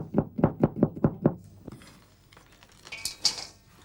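Nuts for panforte pounded by hand, about six firm, evenly spaced thuds in quick succession, then a pause filled with faint scraping and a couple of light clinks near the end.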